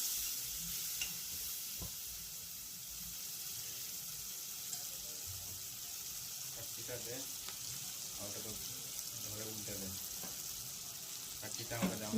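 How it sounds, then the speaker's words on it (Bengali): Lentils tipped into a hot panch phoron tempering in a pressure cooker crackle and sizzle at a low level, with stirring scrapes and some faint background voice. "বেশ খানিকটা ডাল দিয়ে দিলাম ফোড়নে"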